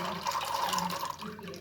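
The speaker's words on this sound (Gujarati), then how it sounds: "તો સૌથી પહેલા આપણે તુવેરના દાણા ઉમેરી લઈશું પાણીની અંદર" Green pigeon pea grains poured into a pot of water make a short burst of splashing and gurgling, close and moderately loud.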